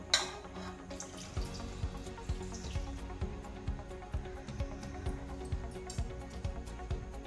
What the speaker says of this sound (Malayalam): എന്നിട്ട് നമുക്ക് ഇതിൽ കുറച്ച് കരിക്കിൻ്റെ വെള്ളം ഒഴിക്കും.